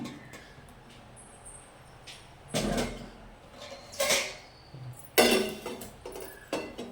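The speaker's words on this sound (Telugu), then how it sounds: "నేను మూత పెట్టి పక్కకు పెట్టేస్తాను." In a home kitchen, a metal lid goes onto a pot of semiya payasam and the pan is set aside, giving several separate close clanks and knocks against a quiet background.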